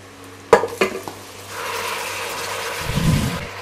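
Mutton drops into a pan of fried masala with a few clattering knocks, then a steady sizzle rises and holds, swelling briefly with a louder stirring scrape near the end.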